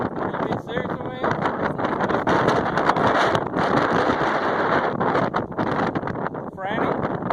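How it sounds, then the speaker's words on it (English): Steady wind buffeting the microphone on the Appalachian Trail, a loud rumbling roar throughout, with people talking over it. "It's windy."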